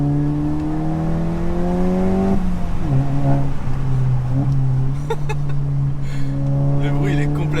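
Volkswagen Golf 7 GTI Performance engine droning steadily while driving, a strong low hum that shifts pitch around the two-to-three second mark then holds on torque, heard from inside the car with faint clicks on top.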